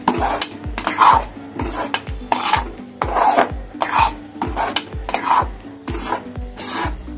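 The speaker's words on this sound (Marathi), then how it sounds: "आणि छान सतत हलवत राहायचं." A spoon scrapes and rubs thick puran filling around a pan on a gas flame, in steady rhythmic strokes of about one or two per second, close and fairly loud with no voices.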